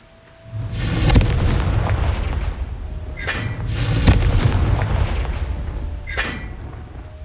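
Deep, booming blasts from the Bombarda explosion spell in Hogwarts Legacy, two big rumbling bursts about two seconds apart with crackling tails and a few lighter impact pops, loud and close over a steady game backdrop.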